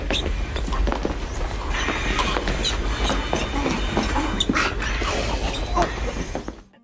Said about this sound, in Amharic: ባቡር ሲያልፍ መስማት እንችላለን።